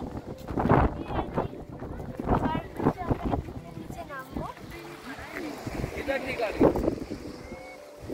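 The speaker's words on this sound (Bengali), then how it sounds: "কি যে বিভৎস হাওয়া দিচ্ছিল, আপনারা তো শুনতেই পেলেন" A strong, cold wind buffets the microphone at an ancient site in England, producing rough gusting rumbles under a person's talk.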